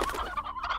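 Hens and a rooster cluck in the video game Slime Rancher, a short run of close, quiet clucks heard alone.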